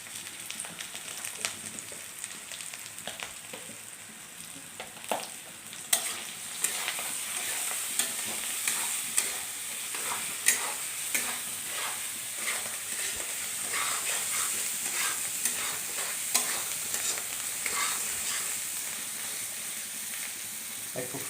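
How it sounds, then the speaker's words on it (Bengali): Fish curry masala with turmeric and salt frying in a pan while being stirred, a continuous bright sizzle with frequent spoon scrapes and taps, close and moderately quiet, with no talking. "একটু ফ্রাই করব।"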